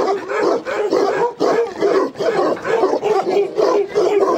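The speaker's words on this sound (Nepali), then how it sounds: "के हो यस्तो यो भुकाइ कडा" A large, bear-like dog barks loudly and close by in a steady run of deep, repeated barks with short gaps, with no talk over it.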